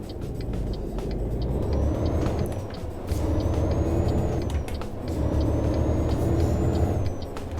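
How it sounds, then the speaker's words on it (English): A Volvo FMX 2014 tipper truck in Euro Truck Simulator 2 drives with a steady, loud low engine rumble and faint whining gear tones that swell and ease in roughly three passes. "the Volvo FMX 2014, which I'm driving now"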